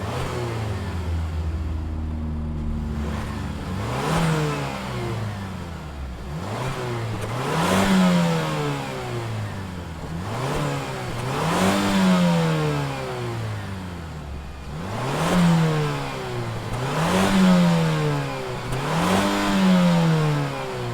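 The 2.5-liter twin-scroll turbocharged engine of a 2023 Mazda CX-50 revs repeatedly, rising and falling in pitch in several loud bursts, heard up close with no talking.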